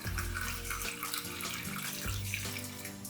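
Brine pours steadily into a jar of fermenting carrots with garlic and peppercorns, a continuous close watery splash and gurgle filling the whole stretch with no talk.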